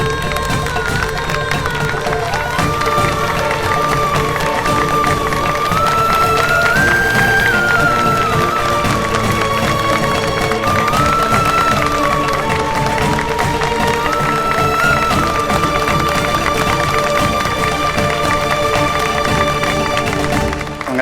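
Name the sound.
village crowd clapping and cheering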